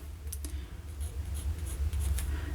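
A fine-nib Pilot fountain pen writing on paper, a soft close scratching in short strokes and pauses, faint and steady with a low background hum.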